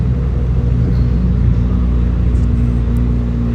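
A car engine rumbles steadily close by on a lakeside street in Limone sul Garda, Italy, a low, even drone that holds at constant loudness as the vehicle passes, with no voices.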